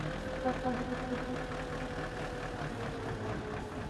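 A tractor engine powers a modified field sprayer with a steady, low mechanical drone and slight knocking pulses. The sound stays constant at mid distance, with people talking over it.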